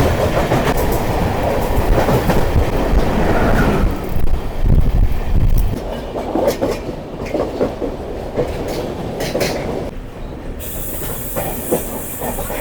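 A passenger train rumbles loudly into Santragachi Junction station, rolling wheel noise and some wind buffeting, the clatter gradually easing as it slows.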